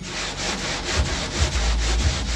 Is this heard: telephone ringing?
no